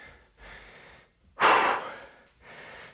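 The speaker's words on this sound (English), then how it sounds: "So if you can hear my breathing, I'm quite out of breath" A single loud, close exhale after kettlebell push-ups stands out between softer breaths, a heavy winded gust in the middle with quieter breathing before and after.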